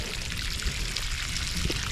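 Water pours steadily onto a drought-stressed tomato garden during a heat wave, a continuous close splashing stream with no talk.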